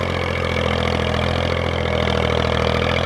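A reconditioned 1997 Massey Ferguson 240 tractor engine runs at a steady idle close by, a loud continuous low diesel rumble with an even throb and no talking.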